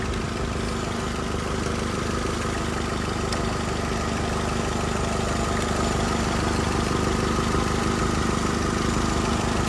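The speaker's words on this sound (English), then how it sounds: "What you want to do is you want to turn on your vehicle." A car engine idles steadily and close by, a dense rumbling drone that stays even for the whole stretch, with no speech over it.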